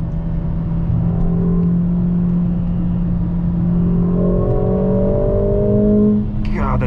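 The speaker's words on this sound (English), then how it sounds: "the engine, this 2-liter, handcrafted in Germany by AMG inline 4 with a pretty big old turbo on it" A 2021 Mercedes-AMG GLA45 4Matic+ crossover with a 2-liter turbocharged inline-four revs and accelerates, its engine note rising and falling in pitch over a constant road rumble heard from inside the cabin.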